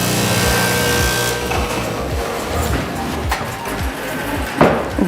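A cutting machine slicing through a stack of up to 100 or 200 layers of tent fabric in a tent factory, with a steady mechanical whir and low repetitive thumps throughout, a sharper knock near the end, and faint background voices.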